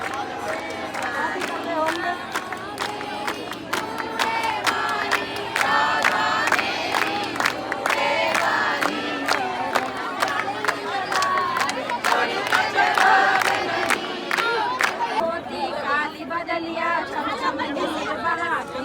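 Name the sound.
devotees chanting kirtan of Radha's name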